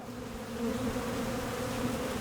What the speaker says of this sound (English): You're listening to the sound of Apis mellifera, honeybees.